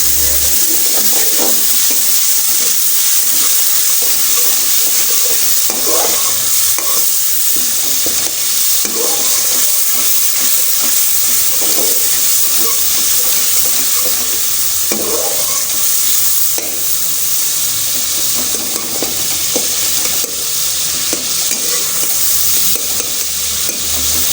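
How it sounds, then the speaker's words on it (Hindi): Masala for chana pulao sizzling loudly in a pan after a little water is added, a steady close hiss of frying with occasional scraping stirs and no talking throughout. "हमने यहाँ थोड़ा सा पानी ऐड कर लिया ताकि मसाला जो भुन रहा था वो पानी से मज़ीद डाल जाए, नरम हो जाए।"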